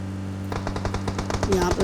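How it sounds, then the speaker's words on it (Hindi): Rapid bursts of video game gunfire crackle in quick succession over a steady engine drone, the shots growing denser and louder toward the end during a shooter match played from a vehicle. "यहाँ पे मेरे को साउंड आ गया था फायरिंग की"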